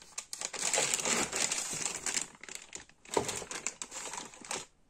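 Plastic bag around a motherboard, part of an Atermiter X79 kit, crinkles loudly and close by in two bursts of rustling separated by a short lull, with no voice.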